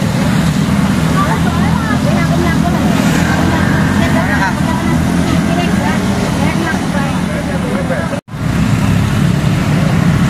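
Heavily loaded passenger vehicle's engine labours steadily up a steep climb on a mountain road, a loud continuous roar with road noise and a brief dropout near the end.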